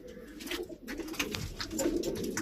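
Racing pigeons coo softly in a loft, low throaty calls repeating close by under faint rustling, no voices.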